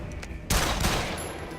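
Gunshots from the horror game The Evil Within 2: a sudden loud blast at about half a second, a second shot soon after, then a long reverberant tail fading out, with no voices.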